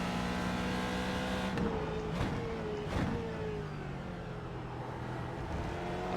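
A big American V8 in a Ford GT2 race car in iRacing sounds as a continuous loud engine drone, rising and falling in pitch as it shifts through gears, with a few sharp bursts.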